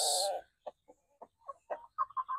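Zampi native chickens give a short, loud squawk followed by a string of soft, separate clucks spaced irregularly, close by in a quiet setting with no voices.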